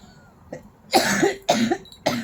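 Three hard, close coughs in a row, each a rough burst after a faint throat sound, with no talking.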